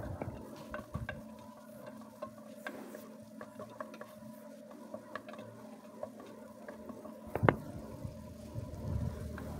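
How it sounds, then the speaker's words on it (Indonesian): Garlic, shallots and carrots sautéing in margarine in a pan, a soft continuous sizzle under scattered taps and clinks of a stirring utensil, with one sharper clatter near the end and no voices. "Ditumis sampai wangi, masukkan wortelnya."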